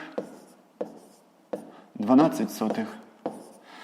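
A pen writes a sixth-grade math result on paper in a few short, crisp strokes spaced about a second apart, close and fairly quiet, with a voice briefly sounding in the middle.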